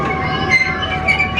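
A theme park railroad train at Adventureland Resort rumbles through a tunnel, with loud, close wheel and carriage noise, faint squeals and a steady rolling roar.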